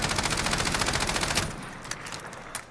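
MTAR-21 rifle in Call of Duty Modern Warfare firing full auto, a rapid, evenly spaced burst of loud shots for about a second and a half, then a few scattered echoing cracks and tails.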